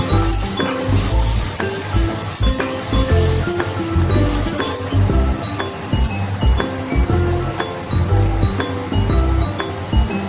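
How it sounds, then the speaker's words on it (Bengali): Garlic and green chilli paste stirred into fish in a hot pan, a steady close sizzle and fry with a spoon scraping and clinking against the pan throughout, no talking. "এবার এটাকে একটু ভালো করে নেড়ে নেব"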